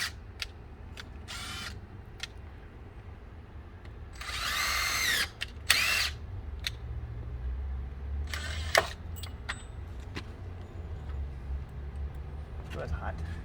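Power drill toenailing screws into boards while building a fence: several short bursts of high whining drilling, the longest lasting about a second, with quiet outdoor background and people talking between them.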